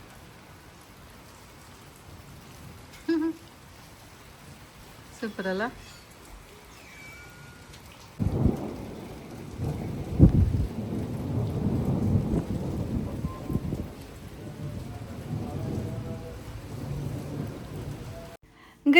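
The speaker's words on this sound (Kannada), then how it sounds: "ಮಳೆ ಬರ್ತಾ ಇದೆ ಚನ್ನರಾಯಪಟ್ಟಣದಲ್ಲಿ" Rain falling during a thunderstorm with lightning and a cool wind: soft steady rainfall with a low rumble of thunder rolling through, and a voice speaking briefly over it.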